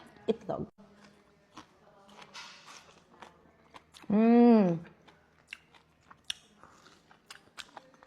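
Crunchy okra being bitten and chewed: close, soft crunches and clicks scattered across several seconds, with a short vocal hum in the middle.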